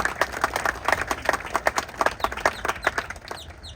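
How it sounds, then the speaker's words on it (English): Scattered audience clapping at a Kennedy Space Center remembrance ceremony, a thin, fairly quiet patter of individual claps that thins out toward the end. "I'd like to give each a warm round of applause."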